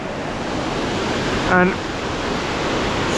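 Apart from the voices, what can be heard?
mountain water rushing down into the valley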